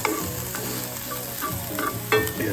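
Onions sauté in a hot cast iron pan over moderate heat, with a steady close sizzle and occasional scraping stirs, and brief louder crackles near the end.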